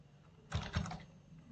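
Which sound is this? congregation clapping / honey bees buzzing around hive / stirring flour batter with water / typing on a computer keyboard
typing on a computer keyboard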